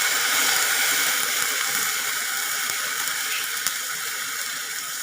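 Vinegar poured into a hot pan of garlic frying with paprika in a home kitchen, a steady bright hissing sizzle that holds evenly throughout, no talking over it.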